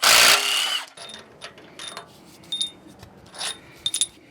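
A small 3/8 power tool loosens head bolts on a worn 351W Mustang engine, with a loud opening burst followed by short whirring and clanking spurts separated by pauses.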